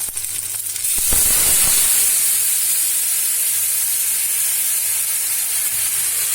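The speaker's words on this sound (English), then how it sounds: "Yes, that's a nice sizzling sound that you're getting." Marinade poured onto barbecued onions in hot oil hisses into a steady, broad sizzle, loud and continuous after a brief splash at the start, with no one speaking.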